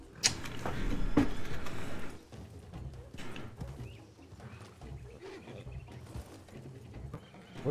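Horse hooves in the RedM video game, irregular knocks and thuds over a rough, shifting background, fairly faint with little talk.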